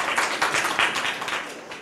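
A classroom of young pupils clapping for a classmate during an English lesson, a short burst of quick, uneven hand claps close by, no talking.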